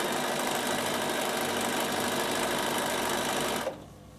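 A sewing machine stitching a produce bag, running in a steady fast whirring buzz for several seconds before stopping abruptly, close and alone.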